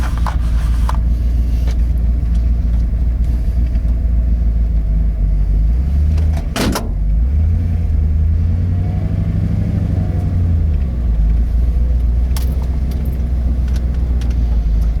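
A 1990 Ford F250 XLT Lariat 4x4 pickup drives over a rough, bumpy driveway, its engine a steady loud rumble from inside the cab, with a sharp knock midway and a brief swelling surge of revving after.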